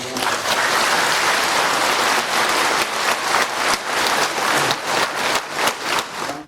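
A congregation at a Christmas Eve Mass breaks into warm, sustained applause, many hands clapping together at a steady level before it thins out toward the end.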